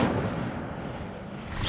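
A fire spell, Incendio, is cast in the video game Hogwarts Legacy, giving a short, dense burst of roaring, whooshing flame that holds steady for under two seconds.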